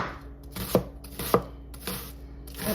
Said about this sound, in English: You can dice them up because these are going into the Salisbury steak.